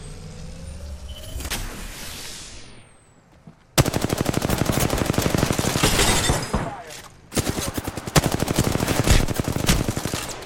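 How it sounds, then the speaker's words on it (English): Rapid automatic gunfire in Apex Legends strikes the player, loud close bursts in a dense rattling stream after a quiet start, with a short pause before firing resumes. "I am taking fire."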